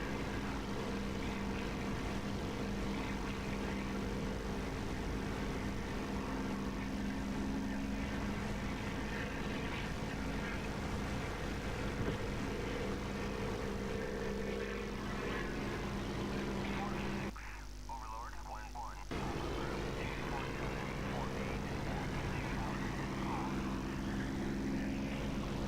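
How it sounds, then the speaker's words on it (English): Continuous droning propeller engine hum of a Spitfire in the DCS flight simulator, steady and even, with a short dip in the middle before the drone resumes. "This is the Echo 19 Spitfire engine sound."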